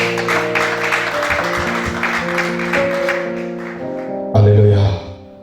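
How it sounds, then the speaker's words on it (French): A church congregation applauding and cheering for Jesus, a dense patter of clapping with voices and sustained music underneath, close and lively, ending in a louder burst. "Acclame pour Jésus"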